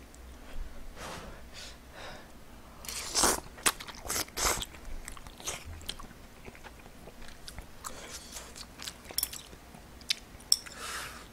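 Someone biting and chewing clam knife-cut noodles (bajirak kalguksu), close crunching bites and wet chewing with slurps and breaths, irregular and intimate, no talking.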